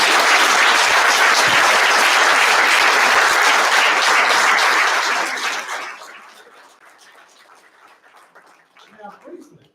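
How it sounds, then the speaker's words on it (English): A Black History Month program audience at a community college gives loud, sustained applause for about six seconds, which then fades into scattered claps and murmuring voices. "I'm going to ask you to give her an applause"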